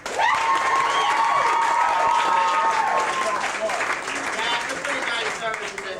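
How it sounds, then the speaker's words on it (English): A crowd at a Humane Society of Austin and Travis County event breaks into sustained applause with some cheering and whistles, loud and continuous, easing slightly toward the end. "if you love your pet, applaud again"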